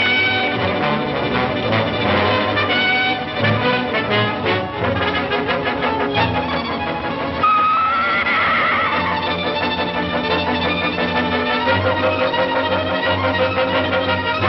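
A horse whinnies loudly amid busy, dense background sound, with hoofbeats clip-clopping along as it gallops.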